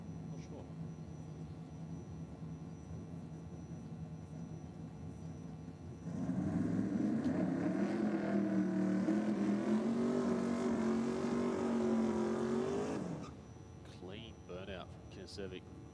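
Big block twin turbo drag car at a no prep drag racing event, a loud engine roar rising over about seven seconds then cutting off, heard from a distance amid crowd background noise.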